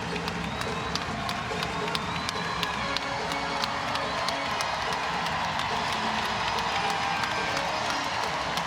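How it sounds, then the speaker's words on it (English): Basketball arena crowd at a WNBA game between the Indiana Fever and Seattle Storm, a dense, steady roar of cheering and shouting with scattered clapping, loud and sustained throughout as the fans rise to their feet. "Crowd rising to its feet."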